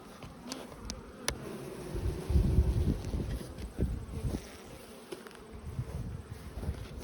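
Honey bees from fresh splits made up with three frames of brood and a Spitfire queen buzz steadily around an open hive outdoors, a dense close drone with individual bees zipping past the microphone and light wind noise beneath.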